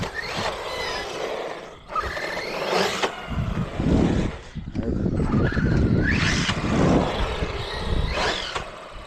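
An Arrma Granite 223s RC truck turns sharply and lifts a back tire. Its motor whines and the tires scrape steadily, loud and close, while someone talks over it throughout.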